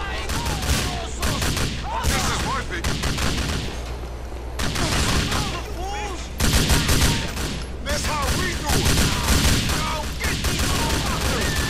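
Rapid bursts of gunfire from a GTA IV: The Ballad of Gay Tony shootout, with loud, repeated automatic shots in dense volleys across the whole stretch, mixed with game sounds and a voice talking.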